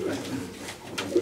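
Pigeons coo in a Romanian breeder's loft in Marasesti, Vrancea. Soft, low, rolling coos repeat close by, with a voice faintly in the background.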